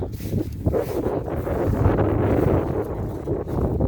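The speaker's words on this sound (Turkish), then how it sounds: "Çok rüzgar, rüzgara baksa ya." Strong wind buffets the microphone outdoors in a garden in heavy, rumbling gusts that swell and dip continuously, with no voices.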